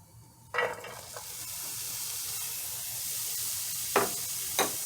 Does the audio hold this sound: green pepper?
yes